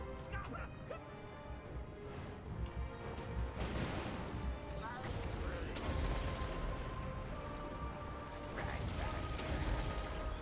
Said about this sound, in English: Rattling guns are firing.